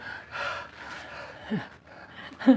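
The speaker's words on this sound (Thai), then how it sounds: "ตอนนี้ขอหอบก่อน" Heavy breathing after physical work, heard as a few quiet, uneven gasps and breaths close to the listener, with a sharper intake near the end.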